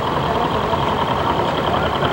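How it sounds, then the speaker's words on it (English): A vintage English ED40 tractor engine runs steadily nearby at a threshermen's show in Albert City, Iowa, a continuous droning rumble with a mechanical whine on top, constant in loudness throughout. "ED40, another English tractor. They have a different sound than the ones built in this country"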